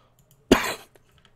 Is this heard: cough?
yes